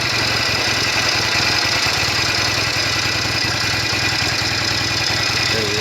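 A Norton Commando 750 motorcycle engine idles at tickover with a steady, low, throbbing pulse, close and continuous throughout, with no one speaking.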